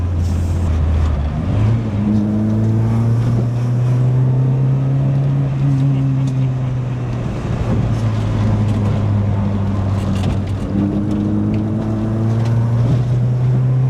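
Renault 5 hatchback's engine revving up and accelerating hard under load, a loud steady drone with rising harmonics and wind rush throughout, recorded from inside the car.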